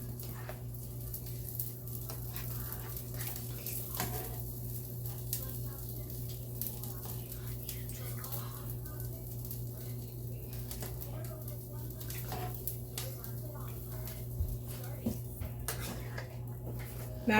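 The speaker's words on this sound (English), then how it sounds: "Now I'm going to mix it together." Goat jollof rice being stirred in a pot on the stove, soft repeated scraping and clinking of a spoon against the pot over a low steady hum, faint throughout.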